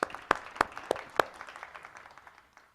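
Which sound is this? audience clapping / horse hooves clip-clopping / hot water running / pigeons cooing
audience clapping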